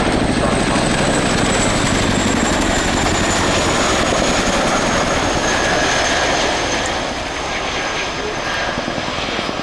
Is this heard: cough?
no